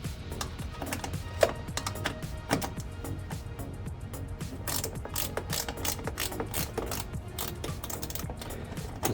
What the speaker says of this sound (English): I'm going to go ahead and start loosening the bolts here to install the strut brace.